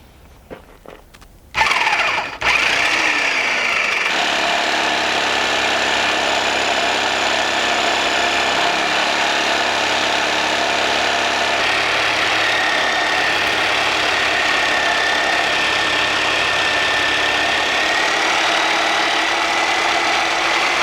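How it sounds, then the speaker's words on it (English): A Sawzall reciprocating saw cutting through a stuck shaft on a flat belt pulley, starting abruptly after a few quiet clicks and then running as a loud, steady buzzing cut that holds for the rest of the stretch. "Sawzall. Will come in here and just hopefully cut this right off."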